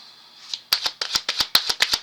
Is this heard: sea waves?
no